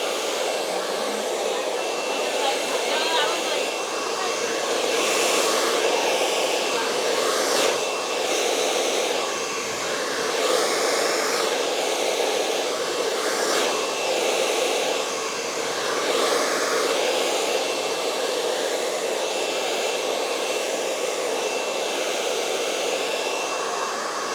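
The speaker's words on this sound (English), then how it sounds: "You can rough dry the hair a little bit" A handheld hair dryer roars steadily and close by for the whole stretch while rough drying hair in a Brazilian blowout certification class, with a broad, continuous airy whir that barely shifts in level.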